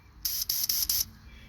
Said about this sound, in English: Make sure it's spray right, because the last thing you want is this thing spitting and spattering on your product